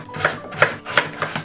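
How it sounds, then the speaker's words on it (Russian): Knife chopping potatoes into small pieces on a cutting board, five crisp, evenly spaced chops close by with no talking. "Нарезаю ее на небольшие кусочки."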